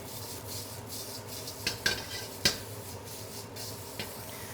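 Broccoli and garlic stir-fry in a wok, a faint steady sizzle broken by a few sharp scrapes and clinks of a utensil against the pan.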